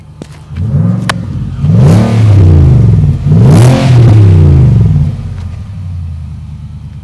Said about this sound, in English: This is what your exhaust sounds like.